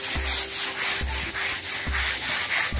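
Sanding and rubbing on a teak wood table, a steady abrasive hiss running throughout with three regular heavier strokes roughly a second apart.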